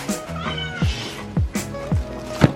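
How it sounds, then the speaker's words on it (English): A cat meows repeatedly and insistently, close and loud, about four drawn-out cries in a steady rhythm with faint household sounds behind. "Why y'all trying to shush the cat? She ain't gonna shut up."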